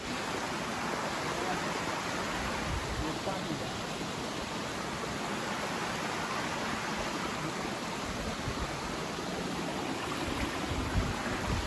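A large waterfall gives off a steady, loud, broadband roar of rushing water. It stays constant and unbroken throughout, as if heard from nearby.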